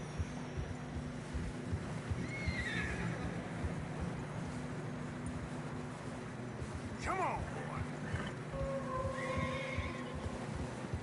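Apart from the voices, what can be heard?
horses neighing in snow, video game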